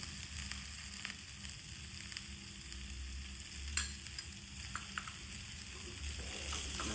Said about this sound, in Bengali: ভালো করে নেড়ে চেড়ে নিতে হবে।